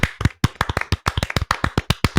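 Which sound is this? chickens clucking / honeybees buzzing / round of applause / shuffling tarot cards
round of applause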